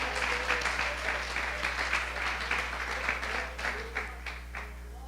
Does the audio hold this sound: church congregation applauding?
yes